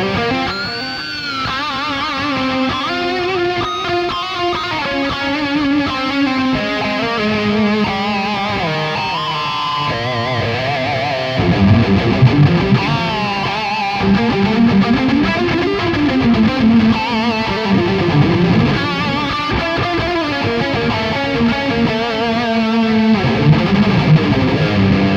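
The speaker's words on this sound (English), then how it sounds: "Let's turn the reverb on and see what kind of reverbs that we have here." Electric guitar through a Sonicake Matribox multi-effects unit with reverb, a long distorted melodic passage of sustained and sliding notes with wide, washy ambience, played continuously and prominently with no talk.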